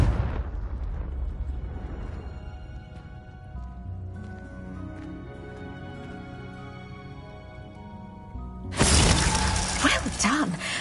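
Spell combat in the Hogwarts video game: cracking, rumbling impacts and a sudden loud, bright shattering burst near the end, layered over sustained musical tones.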